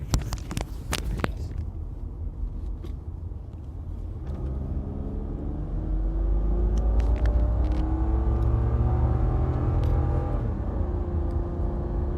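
A Land Rover LR2/Freelander 2 engine revs up, its low rumble climbing and swelling into a steady loud drone, with clicks and handling noise at the start.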